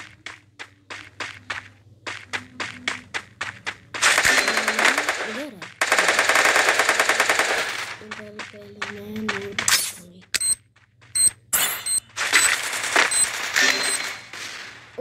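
Bursts of gunfire from a shooting video game, including AWM sniper shots, rattle loudly in several dense volleys between quieter clicks and game effects.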